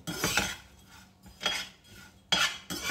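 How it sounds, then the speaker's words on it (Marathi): A utensil stirs grated coconut roasting in a pan, making four bursts of metallic scraping and clinking with short pauses between them, close and with no talking. "मी 1 वाटी खोबऱ्याचा खीस घेतलेला आहे। तो पहिल्यांदा आपण थोडासा गुलाबी रंगावर भाजून घेऊ।"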